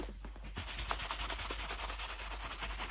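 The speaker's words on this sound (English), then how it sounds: "I'm buffing the edges of the sole." The edge of a leather boot sole being buffed by brush or buffer in quick, repeated rubbing strokes, a soft, close, even scratchy swish with no voices.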